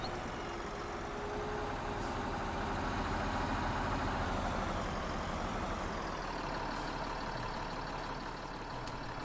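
A Fendt tractor engine in Farming Simulator 19 runs with a steady, heavy diesel drone. It holds a constant low idle, close and even, with no voices.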